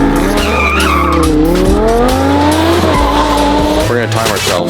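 Race cars launch hard with loud, sustained tire squeal and skidding, overlapping engine roar rising and sliding in pitch, close and intense throughout.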